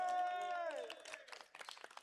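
Audience applause at an award ceremony for the Tunisian national team, a dense patter of clapping that rises after a sustained tone fades, with crowd noise underneath.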